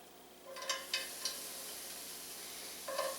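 Onions hit a hot pan with about a teaspoon of canola oil and crackle into a soft, steady sizzle, with a few sharper bursts of spattering near the start and again at the end.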